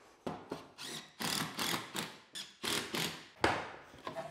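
A power driver sinks a screw through a loose laminate-floor board into a wooden floor joist in short, repeated bursts, each a brief whirring grind followed by a pause, up close with no talking.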